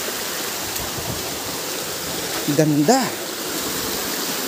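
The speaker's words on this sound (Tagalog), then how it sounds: "Ito na yung pinagmumulan lahat ng tubig." Water flows steadily at the source of a stream near rubble, a continuous hiss of running water with a brief spoken word rising over it partway through.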